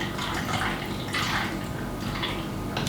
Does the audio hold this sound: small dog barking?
no